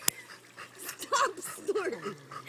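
A dog by a pool snorts and huffs in short nasal bursts with whimpery breaths, close and fairly loud, while a person talks over it.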